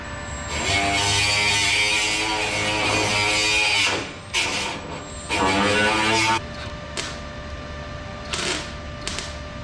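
A welder tacks panel edges on an R32 Nissan Skyline GTR under restoration, with several loud buzzing crackles of a few seconds each followed by shorter bursts.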